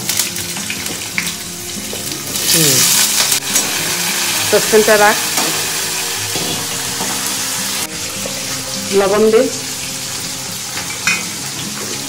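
Potatoes sizzle and spit as they are slid into hot oil in a saucepan, a loud steady frying hiss with clanks of a utensil, while people talk over it in Bengali.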